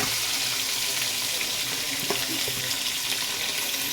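Chopped onions, about six, frying in a pan for pulao, a loud steady close sizzle and crackle throughout with occasional light stirring clinks.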